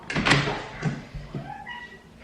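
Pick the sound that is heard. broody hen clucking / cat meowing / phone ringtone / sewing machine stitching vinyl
cat meowing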